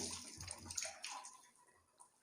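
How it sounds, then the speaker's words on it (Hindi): Water is poured over the head and body during bathing, heard as soft, faint splashing and trickling in bursts that fade out, with no talking. "और उसके बाद 3 बार आपको सर पर पानी बहाना है अच्छे से, जिस्म को रगड़ते हुए"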